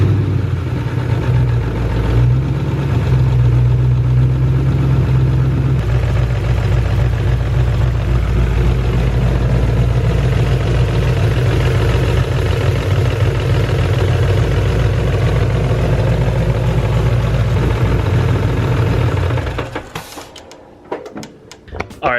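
A Ford Mustang engine idles steadily and loud after a camshaft install, with a fast mechanical ticking running through the rumble before it shuts off near the end.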